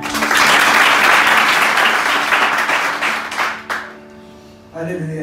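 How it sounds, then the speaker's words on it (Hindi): A church congregation in Sohar, Oman bursts into loud applause after a healing testimony; the clapping is dense for about three seconds, fades, and then a nearby voice starts speaking. "जोरदार तालियां बजाएं"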